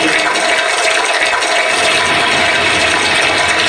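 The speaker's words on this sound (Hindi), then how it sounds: "जल वर्षा होने लगी" Heavy rain pours down steadily as a dense, continuous wash of water noise, loud and close, with no talking over it.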